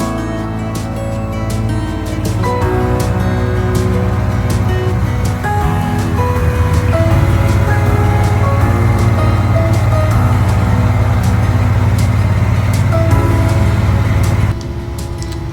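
Continuous engine drone and rattling from the Little John vehicle on a short ride near a sawmill on a property, loud and steady throughout with a slight drop near the end.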